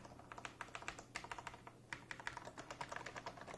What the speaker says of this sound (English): So now I'm going to do a sound test with just all the other keys and stabilizers.